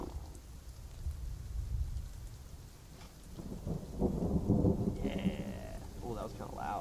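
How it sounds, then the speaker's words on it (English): Steady rain hisses while low thunder rumbles and rolls in the distance, swelling midway, with faint voices murmuring underneath. "Distant thunder."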